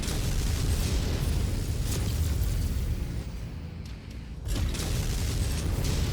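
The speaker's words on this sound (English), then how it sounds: "There's an ammo explosion currently going on inside this Victor." Ammunition cooks off inside a Victor mech in MechWarrior 5: a dense, roaring wall of explosive rumble that stays loud throughout, briefly dipping in the middle before surging back.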